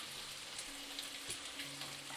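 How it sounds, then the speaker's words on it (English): Bacon fries in a hot pan, giving a steady close crackling sizzle with scattered pops and faint tonal kitchen hum underneath and no voices. "Can y'all hear the delicious sizzling of the bacon?"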